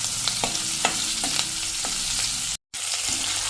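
Red chili and spices roast in hot oil over a medium gas flame for pearl millet khichdi, a loud, steady sizzle with light scraping and stirring clicks throughout and one very brief dropout.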